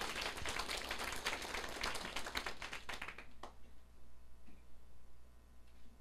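Audience applause from a crowd at an indoor political lecture and administrative class in Taiwan, with dense, loud clapping for about three seconds before it breaks off into scattered claps and room noise.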